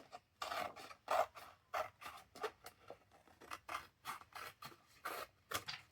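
Scissors or a trimmer cut paper for a journal cover topper in a string of short, close rasping snips that come in an irregular rhythm, crisp and fairly quiet, with no voices.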